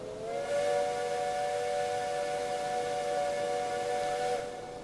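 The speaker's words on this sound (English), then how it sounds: "Whistle." A steam locomotive whistle in the railway game Railway Empire sounds one loud, sustained harmonic blast of nearly five seconds, steady and bright over a breathy hiss before it tapers off.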